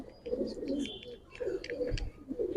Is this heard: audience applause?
no